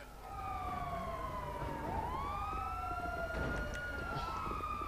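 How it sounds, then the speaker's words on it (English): A police car siren in GTA V wails with rising and falling sweeps, moderately distant, repeating over a hum of background noise. "Oh, there's a police car down there."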